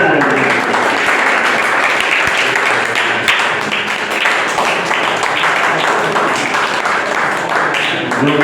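Dense, sustained clapping from an audience at a stage show honoring chief guest Mr. Qamar Siddiqui, steady and loud across the whole stretch with voices faintly mixed in.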